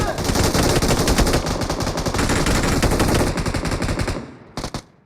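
Rapid, loud bursts of video game gunfire fill most of the stretch in a dense, continuous barrage, then cut off and leave two brief shots before silence.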